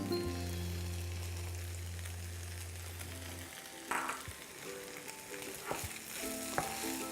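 Fried rice with onions and green onion sizzling and frying steadily in a pan, a continuous close crackle with a low hum in the first half and a few utensil clinks and stirring scrapes toward the end.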